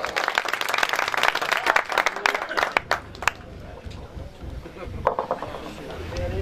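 An audience at a Punjabi poetry gathering breaks into loud applause as a poet is welcomed to the stage, with dense clapping that thins after a few seconds into scattered claps and crowd noise.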